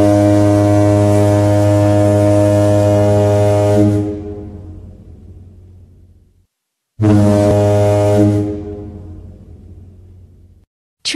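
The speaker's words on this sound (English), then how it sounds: "Ferry." Two long, deep blasts of a ferry horn sound loud and close, each held for several seconds before fading, with a short silent gap between them.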